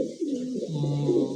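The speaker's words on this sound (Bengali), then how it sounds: "যার যা লাগে একেবারে খাঁচাই কবুতর আছে" Caged pigeons at a pigeon sale, including breeds like Lahori, beauty racer and king, give a soft, close, rolling coo in one brief continuous call with no talk over it.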